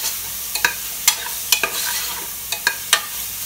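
Onion, ginger and garlic sizzle in a hot pan for goat trotter paya, with a steady fry hiss broken by several sharp scraping stirs of a spoon against the pan.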